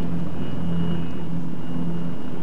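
Steady low droning rotor and engine rumble of a helicopter hovering over a bike race on winding roads at the 1996 Milan–San Remo, continuous and fairly distant with no talk.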